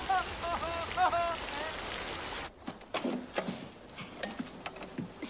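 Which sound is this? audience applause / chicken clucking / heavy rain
heavy rain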